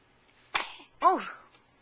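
A baby sneezes twice in quick succession, two short bursts about half a second apart, close and clear in a quiet room, with an adult voice around it.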